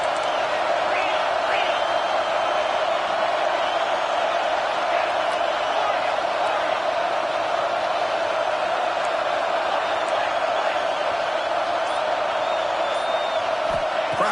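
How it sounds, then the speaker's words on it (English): Football stadium crowd at an A&M versus Texas game roaring steadily on a fourth-down play, a dense sustained wall of cheering and noise that holds at one level throughout. "Crowd trying to make a difference here on fourth down."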